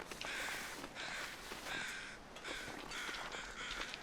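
Crows caw in the survival video game The Long Dark, a series of about five harsh, rasping calls in quick bursts at moderate distance over a faint low ambient rumble.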